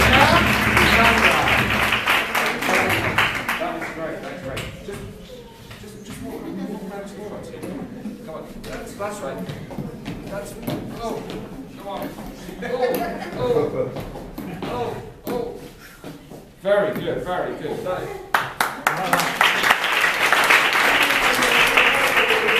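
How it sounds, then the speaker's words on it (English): Audience applause for musicians of the Royal Symphony Orchestra of Seville at a workshop bursts out at the start, gives way to a stretch of talking, then a second round of clapping builds near the end. "I think they deserve a round of applause, don't you?"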